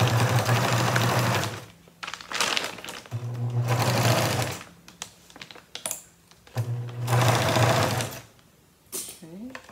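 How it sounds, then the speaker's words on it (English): A sewing machine stitches a feed sack into a shopping bag in three loud, steady whirring runs of rapid needle clatter, separated by pauses with brief bits of voice. "I'll sew the bottom down first to attach it, and then I'll fold it over and sew over the top."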